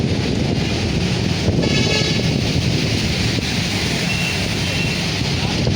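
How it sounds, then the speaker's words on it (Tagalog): Strong wind roars steadily across the microphone, a constant loud rushing buffet with no break and no voices heard. "medyo lumalakas na yung hangin."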